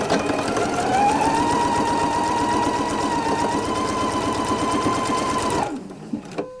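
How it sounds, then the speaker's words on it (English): A sewing machine fitted with a quarter-inch foot runs a quarter-inch quilting seam in one continuous, fast, even whir up close, then stops abruptly, leaving a few faint handling clicks. "I'll be sewing a 1/4 inch seam"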